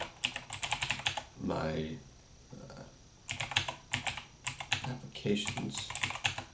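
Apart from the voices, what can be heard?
typing on a computer keyboard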